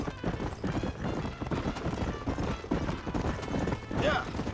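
Horse hooves clip-clopping steadily while riding in the Western video game Red Dead Redemption, heard under continuous talk and game sound, with a brief whinny near the end.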